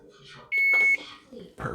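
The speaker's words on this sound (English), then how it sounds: "Timer's about to go off." Kitchen oven timer going off while macarons bake, a single sustained electronic beep of about half a second, with quiet voices before and after it.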